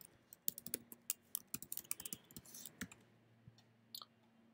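Keys tapped on a computer keyboard while logging in, a quiet, irregular run of light clicks and clacks with short pauses, close by and with no talking.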